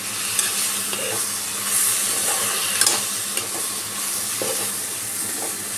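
Spiced masala sizzles and hisses steadily in a hot pan for okra curry as water is added a little at a time, a continuous close frying crackle with no talk.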